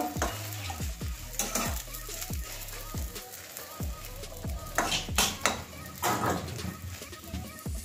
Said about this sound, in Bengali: এবারে এভাবে এদিক ওদিক লাল করে ভেজে নেব।